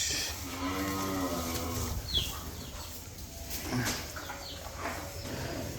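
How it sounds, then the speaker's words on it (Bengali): Cattle and buffalo on a farm, with a drawn-out moo in the near foreground and further lowing amid steady farmyard background noise. "গরু দেখেন"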